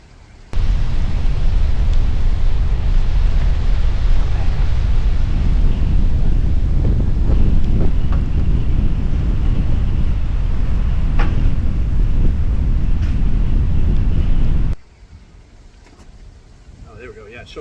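Strong, steady wind at Moscow Boat Ramp in Maine buffets the microphone with a deep roar for most of the clip, then drops suddenly to a quiet background near the end.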